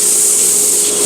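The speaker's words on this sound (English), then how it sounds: "fine-tuning the distance of my fretboard to my platen on my sander" A sander removes material from a guitar fretboard on its platen while the radius is fine-tuned, giving a loud, steady whir and rub up close.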